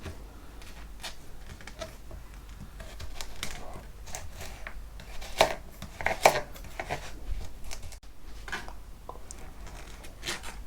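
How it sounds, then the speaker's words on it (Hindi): A knife chopping carrots in a home kitchen for an avocado salad, a few faint irregular cuts against the board with a couple of sharper taps, quiet and close. "कैरेट काट लेते हैं।"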